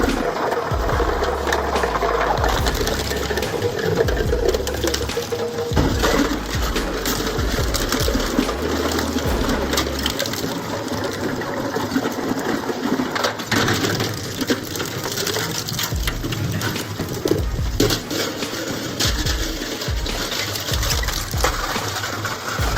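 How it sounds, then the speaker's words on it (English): Metal crushers and shredders process scrap such as drums, barrels and steel pipes, a continuous dense roar of grinding, clanking and crunching metal at close range without letup. "the power of our range of metal crushers and shredders"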